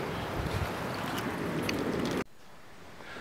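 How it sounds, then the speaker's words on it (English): Strong outdoor wind buffets the microphone beside a campfire cooking setup, a loud, steady roaring rumble that cuts off abruptly near the end into a quieter hiss. "This wind's the worst."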